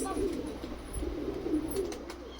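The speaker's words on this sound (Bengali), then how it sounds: "মালবাহী পায়রা আমাদের কলকাতা প্লাস পশ্চিমবঙ্গে এই নতুন নতুন আসছে" Pigeons coo repeatedly in low, throaty rolling calls at a Pakistani pigeon sale in Kolkata. The calls continue steadily throughout, fairly close, over a faint background hum.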